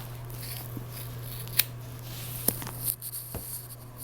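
Scissors snipping hair during a home haircut, a few sharp isolated snips at irregular intervals over a steady low hum, close and quiet, with no talking.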